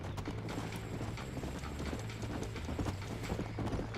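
In the video game Red Dead Redemption, a horse gallops with quick, steady rhythmic hoofbeats. Faint mechanical clicking sits under the hoofbeats, and the whole sound stays fairly quiet.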